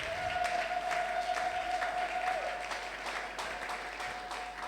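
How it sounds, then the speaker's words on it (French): A church congregation applauds loudly and steadily at a Sunday worship service, with dense clapping throughout and a sustained musical tone ringing over it for the first half. "Acclame encore très fort."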